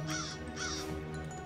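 Crows cawing in the PC hidden-object game Mystery Trackers: Queen of Hearts, two harsh caws in quick succession over a steady low game ambience, with no talking.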